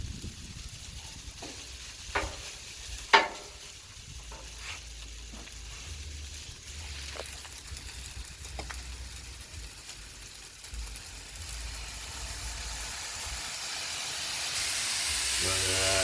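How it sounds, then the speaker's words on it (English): Chicken and pork fried rice with soy sauce on a Blackstone griddle, a steady sizzle and hiss with a few scraping spatula knocks, the steaming rising louder toward the end, with no voices. "get some soy sauce on it, so you can put some soy sauce, it'll steam up in the middle"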